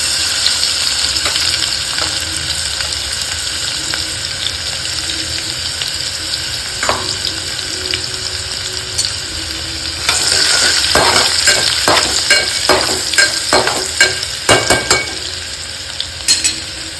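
Mustard seeds, asafoetida and crushed garlic sizzle loudly and steadily in hot oil. Crackling and stirring scrapes pick up in the second half, with nearby clatter and no voices.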